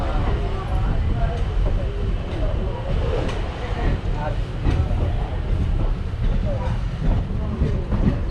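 A train pulling out of Nilambur Road railway station in Kerala, its steady rumble and rolling rail noise continuing loudly throughout, with a voice talking over it.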